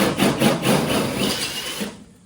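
A 13mm drill bit bores out a hole on a ute, producing a harsh, close grinding with a pulsing rhythm that runs for about two seconds before stopping.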